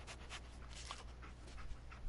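Dogmeat, the dog companion in Fallout 4, panting softly in quick, steady breaths over a low, even background hum.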